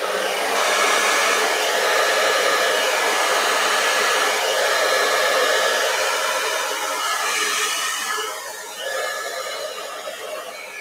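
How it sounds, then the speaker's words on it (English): A hair dryer blows steadily with a constant whooshing whir, running close and loud for several seconds before easing slightly. "All right, turning on my hair dryer here."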